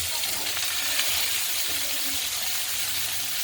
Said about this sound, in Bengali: কড়াইতে তেল গরম হয়ে গেছে, এবার ঝিঙেগুলো আমরা দিয়ে দিলাম